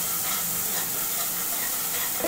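Onion, garlic, ginger, tomato and green chili sautéing in a pan, giving a continuous close hiss of frying with faint stirring, steady and moderately loud, no voices.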